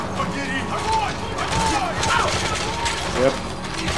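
Rapid bursts of gunfire in the stealth action game Metal Gear Solid V: The Phantom Pain, repeated cracking shots over a noisy backdrop, with people talking excitedly over them.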